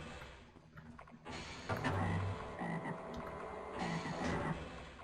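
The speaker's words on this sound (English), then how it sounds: "Doth I hear a chum toad?" A chumtoad in Half-Life croaks over and over in low, throaty bursts, set against a busy, rumbling game soundscape.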